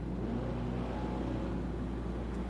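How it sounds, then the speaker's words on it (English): A pink truck drives past on a Veterans Day outing, its engine a steady low rumble and road noise holding loud and close the whole time with no rise or fade, no voices. "Look at this pink truck going by."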